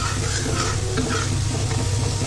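Ground tomato going into hot oil spiced with chili powder, garam masala and coriander powder for dal makhani, giving a dense, steady close sizzle with faint stirring scrapes and no voices.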